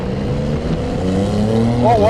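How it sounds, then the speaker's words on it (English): Porsche 911 Turbo S engine revving in sport mode with its exhaust baffles open, a loud, steady rising engine roar with harmonic tones that climb sharply near the end. "let's go ahead and put this in sport mode. The exhaust baffles open up."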